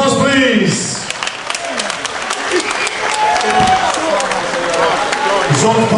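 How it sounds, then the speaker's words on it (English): Spectators at an MMA Total Combat event applaud both fighters, dense clapping and crowd noise filling the hall while an announcer's amplified voice carries over it. "can both fighters a round of applause, please?"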